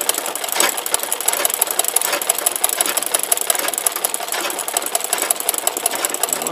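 An electric sewing machine running continuously while stitching simple flowers, a fast, steady mechanical chatter of the needle, close and even throughout with no voices.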